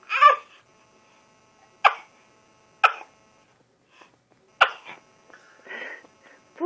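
A baby sneezes repeatedly, small sharp bursts close by, several in a row spaced about a second apart, with soft babbling and fussing sounds between them.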